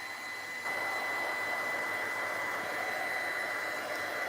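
A heat tool blows continuously on a mixed-media craft project, a steady close whirring roar that steps up slightly in loudness after the first half second and runs alone.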